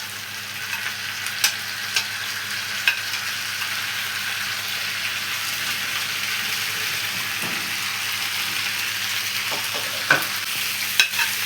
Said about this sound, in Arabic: بعد ما نزلت بالبطاطس وخدت التشويحه هنزل بالبصل